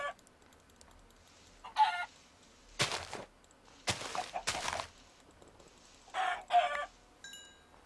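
A chicken in the video game Minecraft, short clucking bursts spaced apart, mixed with a few louder game sound effects and keyboard-like clicks, no talking.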